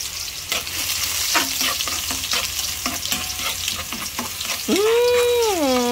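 Garlic dropped into a hot pan for chicken in tomato sizzles loudly and steadily, broken by repeated scraping stirs, then a warbling tonal squeal rises over the frying at the end.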